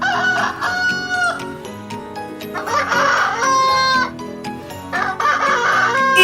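A rooster crows in a children's animal-sound guessing game, a long rising-and-falling cock-a-doodle-doo heard loud and close over a musical backing, repeating several times.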